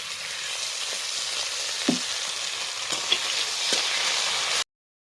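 Onions and green chilies fry in hot oil with a steady, close hiss and crackle, broken by a few soft knocks of a spatula before the sound cuts off abruptly.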